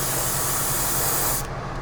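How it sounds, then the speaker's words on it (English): An aerosol spray hisses steadily as a model figure's coat is painted white, close and continuous, then stops abruptly near the end. "I'm just going to spray his coat white"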